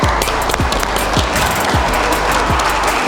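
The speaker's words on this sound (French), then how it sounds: "On applaudit bien fort les gars," A crowd applauding the winner of a UFC submission fight, loud sustained clapping and cheering with repeated dull thumps recurring at a regular beat beneath it.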